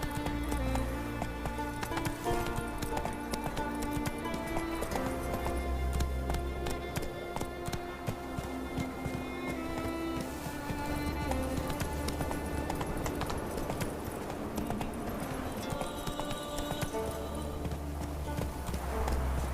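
A horse gallops in The Witcher 3 on the isles of Skellige, its steady rapid clip-clop hoofbeats running continuously for nearly twenty seconds under a layer of game music.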